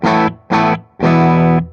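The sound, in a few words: electric guitar through distortion pedal into MESA/Boogie amp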